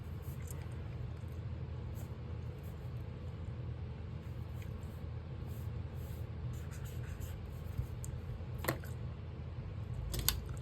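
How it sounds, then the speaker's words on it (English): Pen writing in a paper portrait planner, a steady soft scratching that runs through the whole stretch over low background rumble, with a couple of brief sharper scrapes near the end and no talk. "I'm just gonna write out brain dump."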